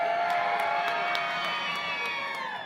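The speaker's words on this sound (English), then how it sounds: "give us another cheer" An indoor crowd cheering at a FIRST Robotics Competition district event in Greater Boston, a sustained, loud wash of voices with whoops and shouts.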